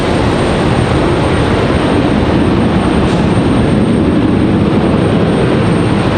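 An airliner at Raleigh-Durham International Airport on a stormy day, its engines giving a loud, steady, broad roar that holds without a break from start to finish, with no voices.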